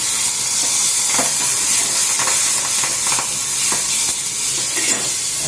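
Crushed tomatoes with curry leaves and asafoetida sizzle loudly in hot tempering oil for dal, a steady, close frying hiss with crackling bursts and occasional stirring.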